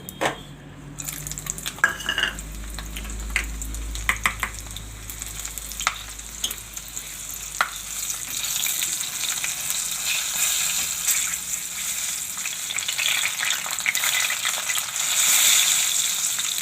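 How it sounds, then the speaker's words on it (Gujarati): Ginger and chillies hit hot oil with a close, steady sizzle and crackle, brief clinks of a utensil early on, and the frying growing louder and denser toward the end, with no talking. "આપણે તેલ ગરમ પાછું થઈ ગયું છે. એમાં આદુ અને મરચાં નાખી દેવું આપણે આ રીતે"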